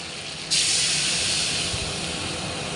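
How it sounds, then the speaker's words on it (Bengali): Water is poured into a hot pan of onion, tomato and turmeric, setting off a sudden loud hiss of steam that holds steady and slowly fades over a couple of seconds. "এবার একটু জল ঢেলে দেবো।"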